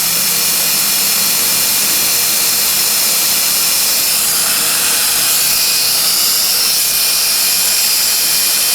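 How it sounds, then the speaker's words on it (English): A power drill runs steadily and loudly at close range, boring out stubborn screws stuck in an original Atari Quantum arcade cabinet, with a continuous high whine and no voices. "So I'm going to keep drilling this out."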